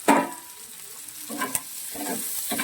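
Ginger, green chili and onion stirred in a fish-frying pan, a burst of loud sizzle at the start followed by intermittent scraping stirs and renewed crackling, close up and without talk.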